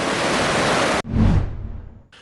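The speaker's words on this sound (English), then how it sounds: "2 sluice gates of the Rajanganya Reservoir were opened by 2 feet to control the flow of water" Water roars out of two opened sluice gates at the Rajanganya Reservoir, a loud dense rush that cuts off abruptly, followed by a deep swelling surge that fades away.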